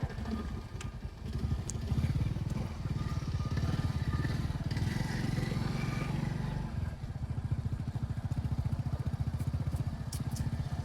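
A motorcycle runs at the edge of a farm field during cumin season, its engine chugging in a steady, close, throbbing rhythm with some rattling, and no talk over it.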